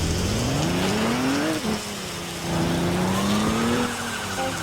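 A car engine hums and revs steadily while driving in a Roblox game, the pitch rising and dipping with acceleration, continuous and fairly loud with no talk over it.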